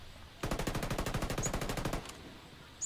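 Rapid automatic gunfire from a video game, a steady burst of about twenty evenly spaced shots lasting roughly a second and a half, loud and close, followed by quiet.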